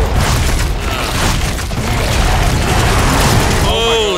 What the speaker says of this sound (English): Holy shit! Rocket!